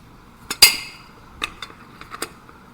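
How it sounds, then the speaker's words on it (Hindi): Sharp metallic taps from a small hammer struck on a jammed ceiling fan bearing, one louder ringing hit followed by several lighter clinks in an uneven rhythm, close and with no talk. "आपको इस पर इस टाइप की हथौड़ी या ऐसे कोई कील या छेनी वगैरह लेके इस प्रकार इसको घुमाना है"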